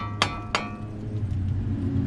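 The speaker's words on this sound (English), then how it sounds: "Stay clear of this is the sledge, the Thor hammer. See how I'm gonna hit it right here?" A heavy sledgehammer strikes metal on a car twice, about a third of a second apart; each blow is a sharp, loud, ringing clang over a low steady hum.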